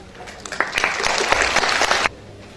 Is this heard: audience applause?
yes